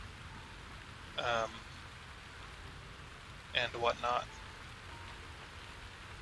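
Steady rain-like hiss in the video game Satisfactory fills the background throughout, with two short bursts of speech breaking in over it.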